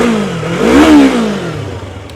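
A 2020 Yamaha R25 V2 motorcycle at about 21,000 miles gives a single loud close rev, its engine note climbing to a peak and falling back to idle.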